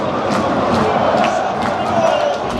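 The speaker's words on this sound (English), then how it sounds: "Not only have they lost, but you got a home crowd booing them too." A home football crowd at an intense Belgian rivalry match roars in a dense, loud, sustained mass of voices, with booing mixed into the din.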